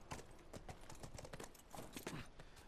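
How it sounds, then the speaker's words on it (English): Horse hooves clip-clop in the video game The Last of Us Part II, a quick uneven run of soft knocking steps at moderate volume, close by, with no voices. "2 seconds on a horse sounds a lot better."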